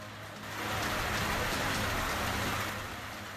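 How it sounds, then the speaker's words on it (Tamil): Heavy summer rain pouring down in Tamil Nadu, a dense, steady hiss that swells after the first half second and holds, with a faint engine hum underneath and no voices. "திண்டுக்கல் தேனி பெரம்பலூர் உள்ளிட்ட மாவட்டங்களில் வெளுத்து வாங்கிய கோடை மழை"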